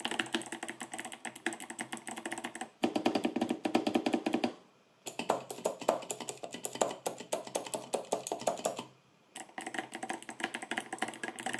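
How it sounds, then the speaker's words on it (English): Fast, continuous typing on an 8BitDo mechanical keyboard, M Edition, with dense, close key clatter that stops briefly twice and then resumes, with no voices. "And the keyboard itself sounds like this."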